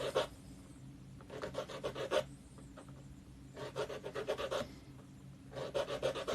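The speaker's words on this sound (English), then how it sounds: "I'm just filing these top stones" Top stones of a dry stone wall being filed by hand, heard as three bursts of rapid, rhythmic rasping strokes with short pauses between, close and fairly quiet, with no talking.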